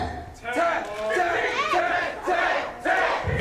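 A wrestling crowd roars and shouts in approval in bursts, loud and close, swelling and dropping over a few seconds with individual voices yelling within the din.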